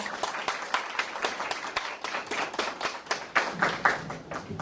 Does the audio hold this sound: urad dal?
no